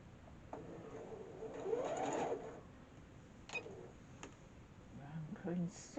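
Sewing machine stitching a quilt block for a purple star pattern, a quiet mechanical whirr in short runs with a few clicks, faint and close.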